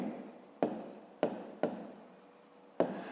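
Chalk scratching across a classroom board during a fifth-grade maths lesson, with a few sharp tapping strokes between softer scraping, close and fairly quiet.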